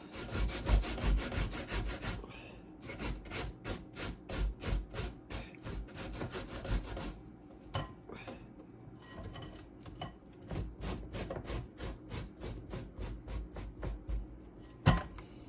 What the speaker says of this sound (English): So I'm gonna continue to grate my cassava until it is all done.